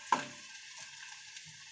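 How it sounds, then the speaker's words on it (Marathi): Onion frying in a couple of spoons of hot oil in a pan, a short soft sizzle after a sharp initial tap, faint and close, with no voices. "तेल गरम झालेलं आहे, त्यामध्ये मी कांदा घालून घेते।"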